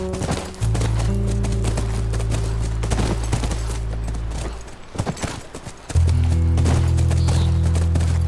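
A horse's hooves clip-clop in The Last of Us video game, a run of sharp, uneven hoof hits over a loud, sustained low droning tone that breaks off briefly and then returns.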